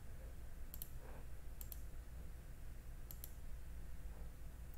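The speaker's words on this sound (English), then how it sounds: "Click the Save button." Mouse clicks in the TruScan Pro software interface, a few soft double clicks spaced about a second and a half apart, faint over a steady low background hum.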